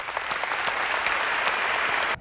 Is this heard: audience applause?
yes